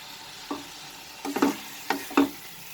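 Tomatoes with salt being stirred as they fry in a pan: a quiet sizzle under four separate scraping strokes of a spoon, short and close, with no speech.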